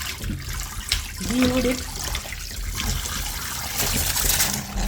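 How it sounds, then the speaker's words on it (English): Tap water runs in a steady trickle while ginger is washed under it, close by, with a person briefly speaking over the flow. "we're going to get in water now. I'm going to just wash up my ginger now."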